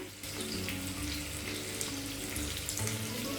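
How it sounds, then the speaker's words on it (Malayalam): Three cups of water poured into a pot for Arabian chicken kabsa rice. A steady, close splashing pour runs continuously for several seconds with a soft gurgle, and no voices. "ഇതാ 3 കപ്പ് വെള്ളം കൂടെ ഞാൻ ഇതിലേക്ക് ഒഴിച്ചു കൊടുക്കുന്നുണ്ട്"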